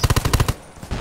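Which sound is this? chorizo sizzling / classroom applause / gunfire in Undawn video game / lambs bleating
gunfire in Undawn video game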